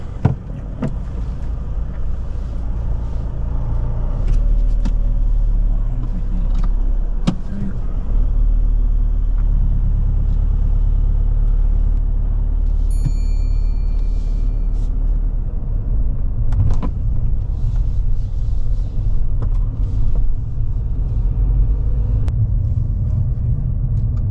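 A car pulls away during a driving test, a steady low engine rumble and road noise filling the cabin throughout, with occasional voices speaking inside.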